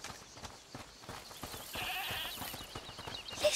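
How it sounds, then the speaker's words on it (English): A goat bleats in the video game A Plague Tale Requiem, a few wavering cries heard faintly at a distance, apparently from inside a locked house, over a quiet ambient background. "Is that the goat he talked about?"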